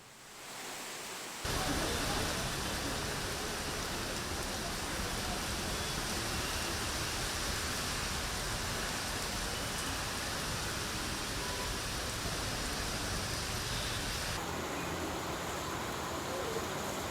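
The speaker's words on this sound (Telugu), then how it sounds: "ఉపరితల ఆవర్తన ద్రోణి ప్రభావంతో ఈ వర్షాలు దంచుకొడుతున్నాయి." Heavy rain pouring in Hyderabad, Telangana, a dense, loud, steady hiss of downpour that starts abruptly and holds at constant strength throughout, with no voices.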